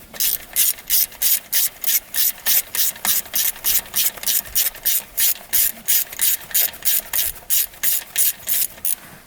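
A hand ratchet clicks in fast, even bursts, over and over, while loosening the cam position sensor on a freshly rebuilt UTV that shuts off and won't start. The sound is close and loud, with no voices.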